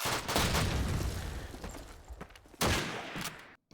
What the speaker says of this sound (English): And there's the MG.